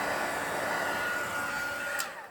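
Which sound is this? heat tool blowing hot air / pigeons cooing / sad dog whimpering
heat tool blowing hot air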